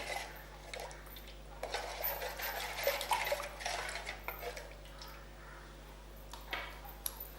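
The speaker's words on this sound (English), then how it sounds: "Keep on stirring." A spoon stirring chocolate payasam in a pot, scraping and clinking against the metal in a loose, irregular rhythm, close and moderately loud over a low steady hum.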